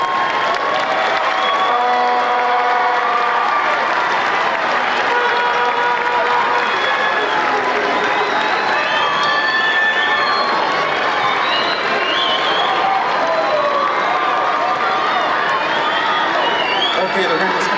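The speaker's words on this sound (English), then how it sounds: "give them a big round of applause" At a graduation ceremony, a large standing crowd of graduates applauds their parents and support people, loud continuous clapping mixed with cheers, shouts and chatter throughout.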